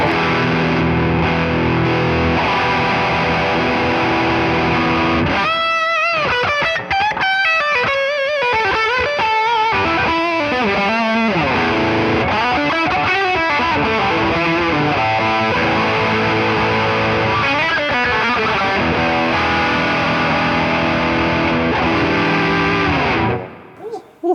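Heavily saturated electric guitar through a boost pedal, playing chords and riffs with a gritty, high-gain tone, loud and sustained, then cutting off at the end.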